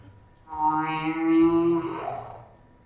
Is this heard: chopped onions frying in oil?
no